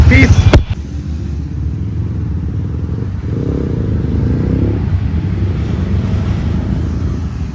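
A BMW S1000RR sport motorcycle engine idles with a loud, steady low rumble after a brief sharp start, the drone swelling slightly mid-way and holding close and continuous.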